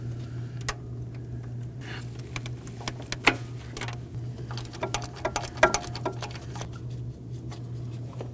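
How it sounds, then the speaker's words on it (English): Two 13mm bolts loosened from the high pressure fuel pump of a 2018-2024 Chevrolet Equinox 1.5L L4, giving close, irregular metallic ticks and ratchet-like clicks over a steady low hum. "Now I'm going to remove my two 13mm high pressure fuel pump bolts."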